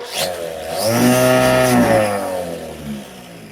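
A Makita DUR181 cordless weed eater with a replaced motor spins up into a loud, steady whine, holds for about a second, then winds back down, heard alone and close.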